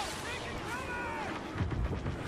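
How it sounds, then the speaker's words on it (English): Gunfire in the Star Wars Battlefront Beta video game, a dense stretch of distant battle noise with blasts thickening toward the end and no clear single shots. "Gunfire is happening"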